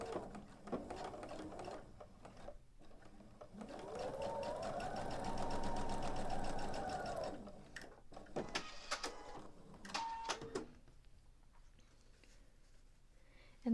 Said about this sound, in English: now I'm going to sew these two together